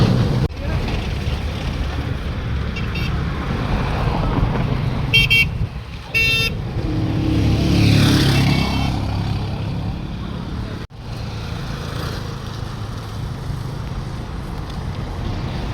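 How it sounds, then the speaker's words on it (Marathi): Traffic and loaded trucks on an expressway, a continuous engine drone with passing vehicles swelling nearby and brief horn toots, while people talk over it. "एक्सप्रेस हायवे दिसत आहे किती लोडिंगच्या गाड्या असतात"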